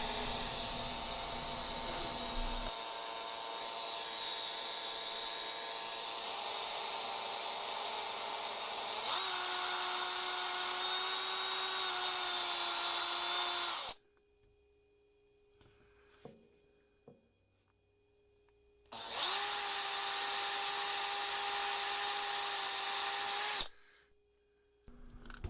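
A small high-speed drill with a 1.5 mm bit bores a pilot hole into the mushroom post of a Hot Wheels Pontiac Fiero 2M4 die-cast car, a steady close whine that shifts pitch under load and stops twice before resuming.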